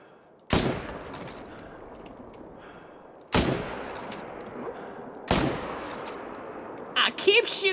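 Gunshots in a shooting video game, three loud separate blasts spaced a few seconds apart with ringing tails, followed by a short burst of quicker shots at the end.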